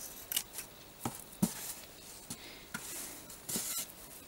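Several short snips of scissors cutting through lace trim, close and crisp, spaced irregularly with soft rustling between them.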